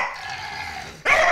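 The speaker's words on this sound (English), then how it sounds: "You have a funny growl?" A lemon beagle makes a playful growl, a nasal, whining rumble held for about a second, then breaking into a sharper, louder vocal burst at the end, close to the microphone.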